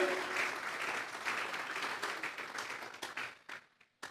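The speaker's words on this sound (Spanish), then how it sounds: "Regálele ofrenda de palmas al Dios de la gloria." A church congregation applauds during a sermon, a fairly faint, dense patter of clapping that thins into a few scattered claps and fades out at the end.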